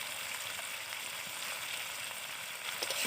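Steady close sizzle of chili powder, turmeric and cumin powder frying in oil in a pan, a continuous hiss that swells slightly at the end, with no talk.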